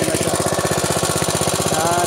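A small engine powering a vegetable-garden fertigation setup chugs loudly and continuously nearby, its rapid even firing pulses forming a steady throbbing drone.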